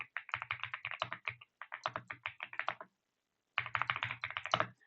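Code typed on a computer keyboard in quick bursts of close, crisp key taps, with two short pauses between runs of typing.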